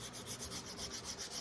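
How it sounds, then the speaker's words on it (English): Rhythmic back-and-forth sanding strokes on a wooden guitar neck being carved by hand, a steady scratchy rubbing repeated about ten times in quick succession, close and moderately quiet with no talking. "to do a little sanding there"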